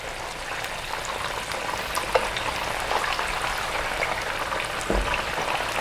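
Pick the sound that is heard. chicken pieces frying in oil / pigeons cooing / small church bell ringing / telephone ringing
chicken pieces frying in oil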